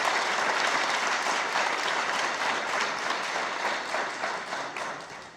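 Applause at a book presentation for the author, a dense, even roar of many hands clapping that holds steady and tapers slightly toward the end.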